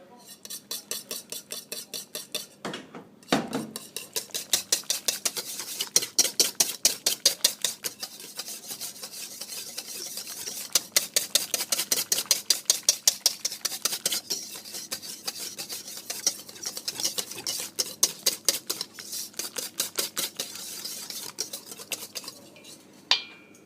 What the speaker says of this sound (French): pour faire une mayonnaise, on n'est pas obligé de fouetter toujours dans un sens